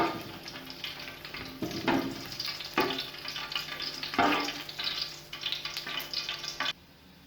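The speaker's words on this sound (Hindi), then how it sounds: "अब मैं इसमें ऐड कर रही हूँ तेज़ पत्ता, ज़ीरा, लौंगे और काली मिर्चें" Bay leaf, cumin, cloves and black pepper crackle and sizzle in hot oil, with occasional stirring scrapes and sharp spits, close and moderately loud before cutting off at the end.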